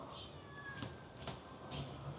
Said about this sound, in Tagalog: Dami rin pusa dito.